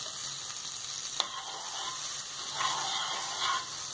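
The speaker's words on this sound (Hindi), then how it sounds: "मैंने गैस ऑन किया है और ये बटर मेल्ट हो रहा है।" Butter melts in a pan over a gas flame, giving a steady, close sizzle that runs throughout, with a few brief clinks and stirring swells near the end; nobody speaks.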